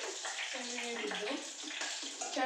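Water pours into a cooking pan holding a garlic and curry-leaf tempering for a cashew masala curry, a steady hissing gush under some faint background voice.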